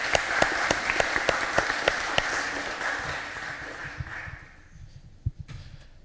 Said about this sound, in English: Big round of applause for Sidesh, everyone.